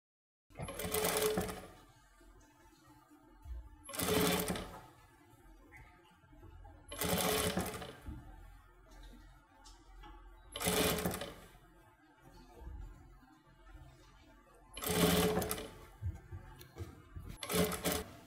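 A sewing machine stitches a pleat on a kids' dress in five separate bursts of a few seconds each, with short quiet pauses between them, close and fairly loud.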